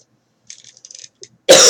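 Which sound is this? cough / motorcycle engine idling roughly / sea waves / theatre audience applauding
cough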